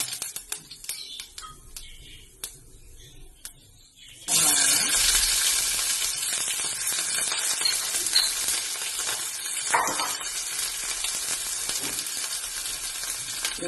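Mustard seeds sizzle and crackle loudly in hot oil for a cherry tomato curry, a steady frying hiss that starts abruptly after a few seconds of faint kitchen clatter and continues with stirring.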